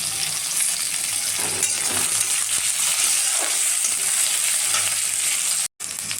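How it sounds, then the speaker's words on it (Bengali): Chopped tomato and chili hit frying garlic and onion in a pan, giving a loud continuous sizzle with stirring scrapes throughout and a brief cut just before the end. "রসুন পেঁয়াজ হালকা লাল হয়ে এসছে, এবার দিয়ে দেবো টমেটো কুচি আর লঙ্কা কুচি দিয়ে দেবো"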